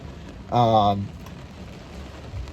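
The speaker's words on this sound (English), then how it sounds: "It is pouring rain outside." Steady hiss of heavy rain pouring down outside a Tesla Model 3 throughout, with a brief tonal voice-like sound near the start.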